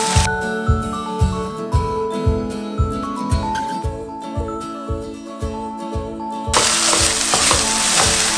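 Seasoned cabbage sauce stirred in a frying pan, loud rhythmic spoon strokes scraping every half second over a bright sizzle, with a burst of hissing frying near the end.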